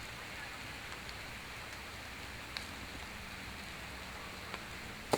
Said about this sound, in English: We've got rain, folks. You can see the umbrellas up.